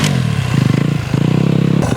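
A trials motorcycle in a trials park rides over a log, its engine close and loud with a throbbing, pulsing tone that dips briefly and then picks up again, ending in a short clatter.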